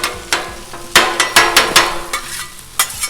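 Spatula blade chopping corned beef hash on a Blackstone griddle, a run of sharp metallic scrapes and taps in uneven rhythm, close and fairly loud over a soft sizzle.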